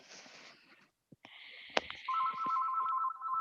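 A house phone rings with an electronic trill that steps in after a few clicks and a sharp knock, then settles into a steady, fairly loud tone with no one speaking.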